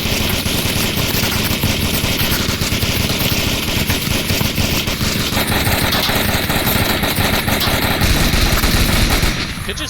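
Dense, continuous automatic fire rattles without pause in the VR shooter Onward during a competitive match, loud and close, rapid shots blurring into one sustained burst that thins out at the very end.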